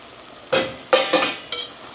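A spoon scrapes and clinks against a pan while paneer is stirred for veg dum biryani on a fast gas flame: four short metallic strokes, close and fairly loud, over a quiet background.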